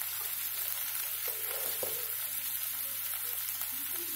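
Tomatoes and a handful of curry leaves sauté in a hot pan for peanut chutney, giving a steady, close sizzle with light stirring scrapes and no talk.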